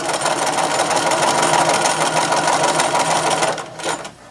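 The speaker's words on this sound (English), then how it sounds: "As you're stitching, the needle should fall off the one side of the fabric and be on the fabric on the other side." Sewing machine running steadily and loudly while stitching a lettuce hem along stretched fabric, a continuous dense whirring that eases off near the end.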